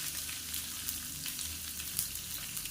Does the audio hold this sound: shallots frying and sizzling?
yes